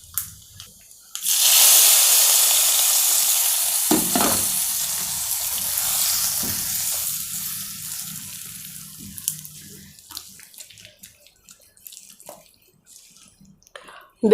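Mustard seeds, cumin, urad dal and dried red chilli hit hot oil for a Kathirikkai Kadayal tempering, starting with a loud burst of close sizzling that slowly fades and crackles out into scattered pops.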